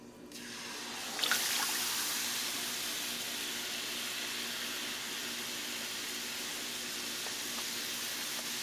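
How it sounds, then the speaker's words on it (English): Heavy cream blend poured into a pan over medium heat for white gravy to go with chicken fried steak, bursting into a steady, fairly loud sizzling hiss after a quiet first second, with no talking. "we're going to go ahead and add our mixture and our heavy cream blend"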